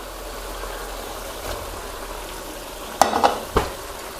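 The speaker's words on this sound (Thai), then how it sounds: "คนคลุกเคล้าให้เข้ากันครับ" Soft, steady scraping and gentle sizzling from a pan of spicy stir-fried pork leg with chopped Thai eggplant, ending with a few sharper clinks of a utensil against metal; no voices.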